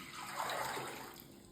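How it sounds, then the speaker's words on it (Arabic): A liter of water is poured from a tap into a pot for syrup, a soft, continuous splashing stream nearby that swells briefly and then eases, with no talk. "نجيبو كسرونه نديرو فيها ريتله تاع ماء"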